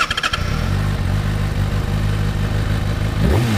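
A Kawasaki Ninja ZX-6R 636 engine idles with a loud, choppy rumble, then revs sharply upward at the end.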